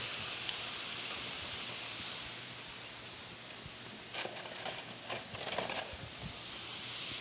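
Porterhouse steak seasoned with pepper searing in a hot pan, a steady close hiss throughout with a brief burst of crackling spits near the middle, no talking.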